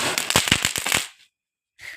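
A small Diwali firecracker crackles in a rapid burst of sharp pops for about a second outdoors, then falls silent before a faint brief rustle.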